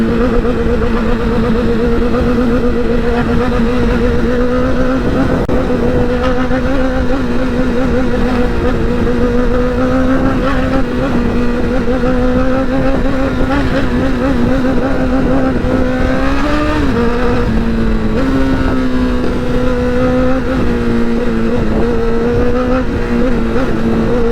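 Motorcycle engine roaring steadily at high speed on the road, its pitch climbing under acceleration and dipping briefly at gear shifts, loud and continuous with heavy wind rush throughout.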